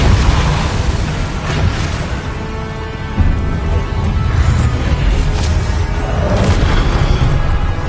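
Confringo spell explosions go off in the Hogwarts Legacy video game as a dense, loud, rumbling barrage of booms and bursts. Several sharper blasts stand out around the middle and toward the end.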